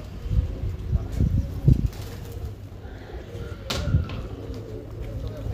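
Champion pigeons coo in low, soft bursts, some close and some further off, with a brief flutter of wings and quiet talk in the background.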